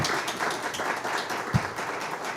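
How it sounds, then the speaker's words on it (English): Audience applause for a panel at a World Press Freedom Day event, a moderate, fairly even patter of many hands clapping with one brief low thump partway through. "if you would give a great round of applause to all of our panelists"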